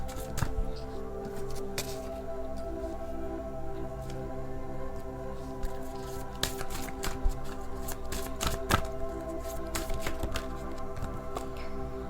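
Tarot cards shuffled and drawn by hand, a steady stream of soft riffling and flicking with scattered sharper snaps, close and fairly quiet over a faint background hum.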